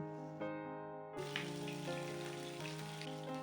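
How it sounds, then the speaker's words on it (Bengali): Half a spoon of nigella seeds and two dried red chillies hit the hot oil left from frying pointed gourd in a vegetarian Bengali kitchen. After a second of quiet, a steady close sizzle takes over under sustained background tones. "এবার এই পটল ভাজার তেলেই ফোড়নের জন্য দিয়ে দিচ্ছি হাফ চামচ কালো জিরে ও দুটো শুকনো লঙ্কা"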